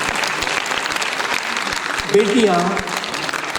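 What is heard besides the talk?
audience applause after a dance performance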